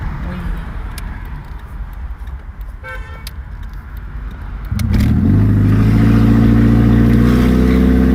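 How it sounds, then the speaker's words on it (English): A car horn in traffic blares in one long, loud, sustained blast that starts partway through, heard from inside a moving car over the low rumble of road noise. "the person honking"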